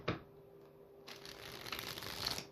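Tarot cards being shuffled by hand, a short riffle at the start followed by a steady papery rustling and flicking that builds and continues close to the microphone, with no talking.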